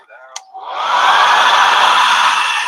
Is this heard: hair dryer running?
yes